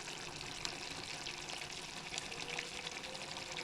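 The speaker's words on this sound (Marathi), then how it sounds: "यामध्ये आपण थोडी फ्रेश क्रीम टाकून घेऊ" Fresh cream poured into spiced masala gravy frying in a pan for shahi bhindi, a steady wet sizzle with a soft pouring splash, close and continuous with no talk.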